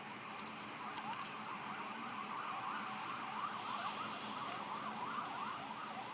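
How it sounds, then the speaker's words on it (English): Wavering sirens wail steadily through the whole stretch, rising and falling in a repeated sweep at moderate distance, over a constant wash of heavy pouring rain on a rainy day. "Well, there goes some sirens."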